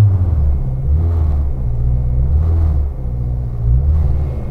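An 800 hp turbocharged front-wheel-drive Honda Integra rumbles in reverse gear, its engine throbbing low and steady up close, with no voices over it.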